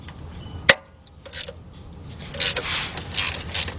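Mechanical clanks and ratcheting clicks ring out from tools working on the starter bolts of a 1977 Buick LeSabre 5.7, with a sharp metallic knock early and then bursts of ratchet turning, close and moderately loud.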